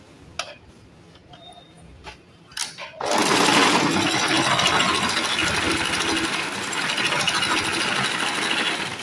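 A sewing machine fitted with a normal presser foot starts after a few soft clicks and handling taps, then runs in a fast, steady, loud mechanical whir of stitching to the end.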